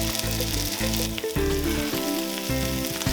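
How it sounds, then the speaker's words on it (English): Brussels sprouts sizzle face down in a pan of flavoured oil and butter, a loud, continuous crackling fry with background music playing throughout. "Now with that same flavoured oil, throw in your Brussels sprouts face down."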